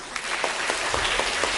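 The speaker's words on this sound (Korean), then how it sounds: "인사하면은 박수로 크게 화답해 주겠습니다" Church congregation clapping together at a new-members graduation ceremony, a brief, steady burst of many hands with crisp individual claps, close and fairly loud.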